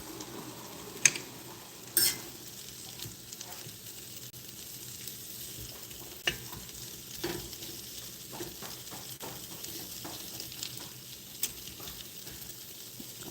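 Shrimp fry in a pot, a low steady sizzle with intermittent scrapes and sharp utensil knocks against the pot as they are stirred, fairly quiet overall.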